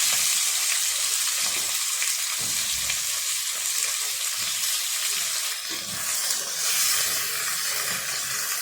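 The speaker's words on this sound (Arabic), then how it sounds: "انا بشوح البصلايه يا جماعه وهنزل عليها قطع" Chopped onion and small pieces of meat sautéing in a pot, with a loud, steady sizzle and hiss throughout and occasional stirring scrapes, close up, no talking.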